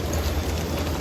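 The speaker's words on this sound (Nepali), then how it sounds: "पानी परिरहेछ" Rain falling steadily along a mountain trek route near Kapuche Lake, a dense, continuous patter with no distinct drops standing out, close and fairly loud, with no voices.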